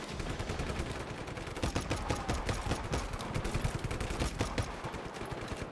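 Gunfire in the PC video game Just Cause 3, rapid bursts of automatic weapon shots crackling over continuous background game noise, loud and sustained with dense repeated reports.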